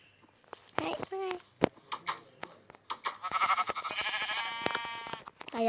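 Sheep bleat in a Minecraft game, several short electronic bleats scattered among clicks and game effects, while someone talks over them throughout.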